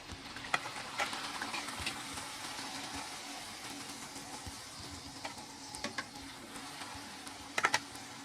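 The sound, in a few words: dal puri frying in oil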